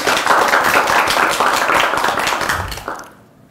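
A quiz-show studio audience applauds one another in a brisk, loud wave of clapping that holds for about three seconds before quickly fading to near silence.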